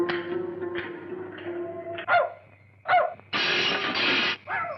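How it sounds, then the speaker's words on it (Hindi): A street dog barks in a few sharp, close bursts, then gives one longer, sustained yelp, with a steady low hum running underneath. "नहीं माँ, वो तो गली का कुत्ता है।"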